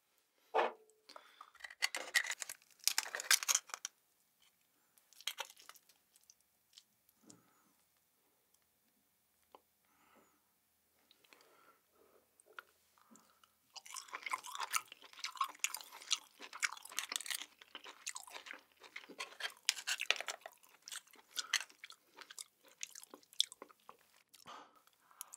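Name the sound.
chewing steamed red scallop, seafood mukbang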